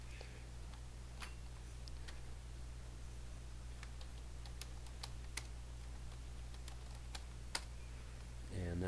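Quiet keystrokes on a computer keyboard as a password is typed, sparse clicks spaced irregularly over a low steady hum, no talking.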